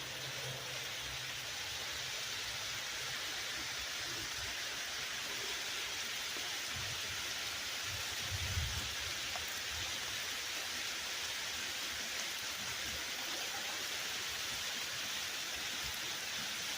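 Steady rain falls outdoors in New England near an old stone fountain, a constant broadband hiss that stays even and fairly close throughout, with a few faint low thumps and no talking.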